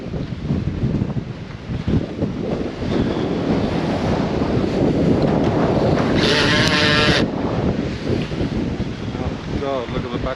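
Strong wind roars and buffets the microphone on a stormy foreshore at Lang Lang, with waves and surf rushing continuously and loudly throughout, and a voice speaking briefly over the noise.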